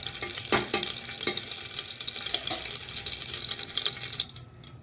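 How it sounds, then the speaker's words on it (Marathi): A spoonful of ghee and half a spoon of oil heat in a hot pressure cooker for tempering. A constant close sizzle carries scattered clicks and stirring taps, then tapers off at the end. "त्याच्यामध्ये मी एक चमच तूप घालणार आहे फोडणीसाठी आणि अगदी थोडंसं अर अर्धा चमच तेल घातलेलं आहे"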